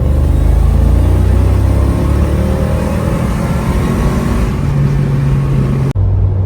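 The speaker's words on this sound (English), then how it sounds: "Let's make some V8 sounds." A Mercedes G-Wagon W463 V8 drones loudly from inside the cabin while driving, a steady low engine rumble with rising revs that cuts off abruptly at the end.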